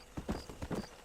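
Horse hooves clip-clop in a steady rhythm of about four close, clear beats as a horse is ridden in the video game Red Dead Redemption.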